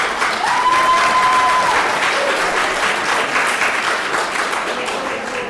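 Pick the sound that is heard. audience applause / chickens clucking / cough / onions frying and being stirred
audience applause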